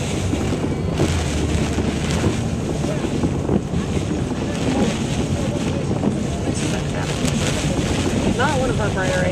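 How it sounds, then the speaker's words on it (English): A ferry travelling from New York to Vermont ploughs through choppy waves, with steady loud wind buffeting the microphone and continuous water rush and spray around the hull throughout. "can see a lot of waves come over the bow."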